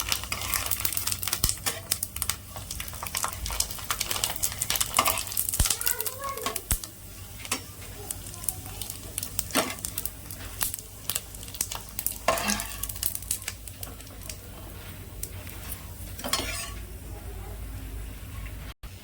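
Rava kurdai fry and puff up in hot oil, giving a continuous close sizzle and crackle broken by occasional stirring clicks. Someone talks over the frying throughout.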